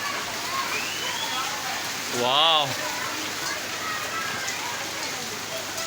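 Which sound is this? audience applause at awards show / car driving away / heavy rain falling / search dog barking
heavy rain falling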